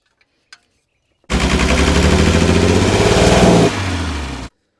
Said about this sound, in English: And she revved up pretty well, so that's a good sign.